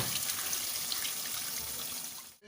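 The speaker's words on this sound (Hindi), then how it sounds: "अब हम इसमें पानी डालेंगे और इतना पानी डालेंगे जिसमें गोश्त गल जाए" Water pouring steadily into a cooking pot of browned meat for arvi gosht, a continuous close splashing gush that stops abruptly near the end.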